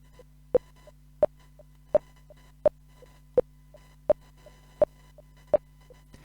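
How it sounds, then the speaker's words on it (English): A steady app metronome ticks about every 0.7 seconds, sharp accented clicks alternating with softer ones, over a faint constant electronic hum. "When I start it now, you can hear how the metronome works"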